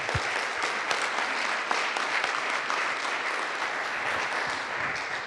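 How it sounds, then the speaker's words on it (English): An audience at a morning presentation applauds the presenter, steady dense clapping that fills the room for several seconds at moderate volume, with no voices over it. "So let's give a round of applause for our presenter."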